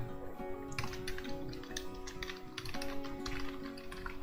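Fingers type a name on a computer keyboard in steady, close key clicks, with a few brief pauses between bursts and no talking.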